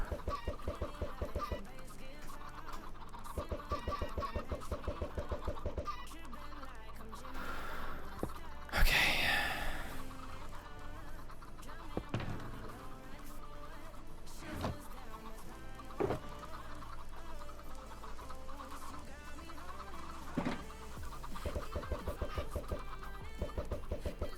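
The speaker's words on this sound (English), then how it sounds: "There's gonna be so many chickens in here." Many Minecraft chickens cluck in a video game, with repeated short clucks in scattered bursts over steady background game sound and a faint breath or sigh.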